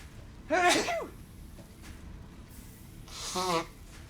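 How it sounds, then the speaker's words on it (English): One sharp sneeze bursts out up close, followed a few seconds later by a second, softer sneeze-like blast, both over a quiet steady background. "Need to sneeze."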